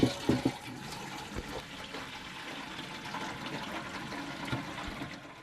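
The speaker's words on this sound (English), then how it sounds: "The hot water's coming out." Hot water gushes steadily from an outdoor shower, a continuous close splashing hiss with a few louder spatters at the start.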